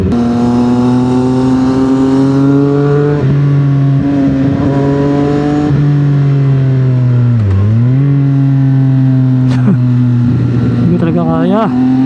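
A 2025 CFMOTO 675SR-R motorcycle engine pulls hard, its loud, close tone climbing in pitch through the gears with clear dips at each shift and a rising rev toward the end, while a rider talks over it.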